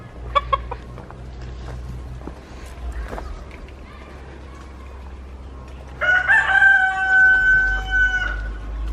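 A hen and chickens in a coop give soft, scattered clucks close by, then one bird lets out a loud, drawn-out crowing call near the end, with a low steady hum underneath.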